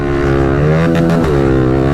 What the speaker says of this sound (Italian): tutto interno full gas finché la moto va